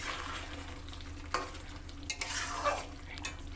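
Mutton kosha with potatoes sizzling and spattering in a pan, a steady soft frying hiss broken by a few sharp pops and spits, close and moderately quiet, with no voices.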